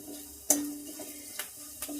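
Spice tempering for gongura fry sizzles in a pan over high heat, with a sharp scrape of stirring followed by two lighter stirs over a soft, steady fry.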